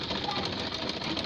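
A sewing machine stitching fabric gloves, running steadily and continuously at close range with a dense mechanical whir, no pauses and no talk over it.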